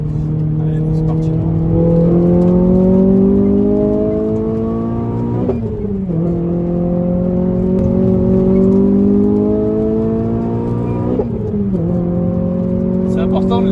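A Renault Clio 3 RS on a road test accelerates hard through the gears, its engine note climbing steadily in two long pulls with brief dips at each upshift, loud and close from inside the cabin.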